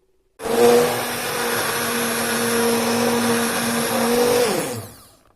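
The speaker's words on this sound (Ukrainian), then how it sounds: "І все це перебиваю блендером." A blender purees pumpkin and vegetable soup, starting abruptly and whirring loudly at a steady high pitch for about four seconds, then spins down and stops.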